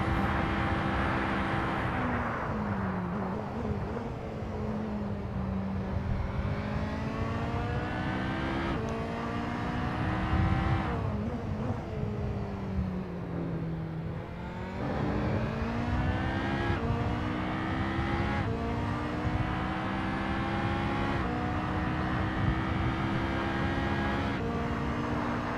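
A BMW hypercar in a sim racing game, its engine note rising and falling steadily through a set of corners, with gear changes and revs sweeping up and down, loud and continuous throughout.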